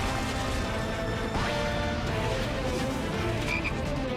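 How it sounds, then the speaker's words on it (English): Frog croaking in a Final Fantasy 7 Remake trailer, a dense run of loud croaks over a busy, full game soundtrack with crashes and effects. "What the hell is the frog doing there?"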